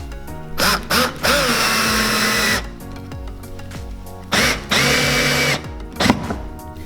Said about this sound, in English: So you can just screw in screws into that 2x4.